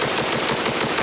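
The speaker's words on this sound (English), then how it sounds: "Well, now we got a product just for you! It's called an automatic shotgun!" An automatic shotgun firing continuously, a dense, loud, roaring barrage of blasts that fills the whole short moment with no pause.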